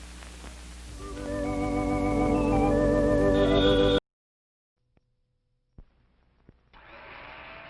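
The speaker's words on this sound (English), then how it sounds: "Here's the newest, most exciting sound in town. It's a General Electric blender that's going around." A General Electric blender in a vintage commercial whirs up from quiet to a steady, loud motor whine lasting a few seconds, then cuts off abruptly. A few faint clicks and a softer hum follow.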